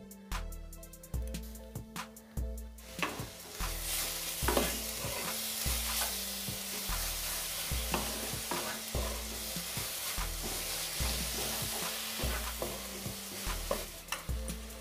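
Grated coconut and date palm jaggery are stirred in a hot wok, with steady scraping and sizzling throughout and repeated spoon knocks, all under background music.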